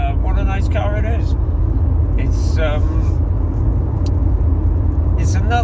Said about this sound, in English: driving a Mazda CX30, and what a nice car it is.